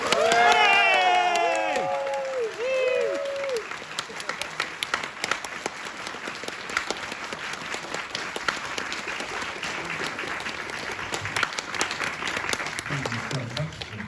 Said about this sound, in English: can we get a big round of applause for Judith Gibbins?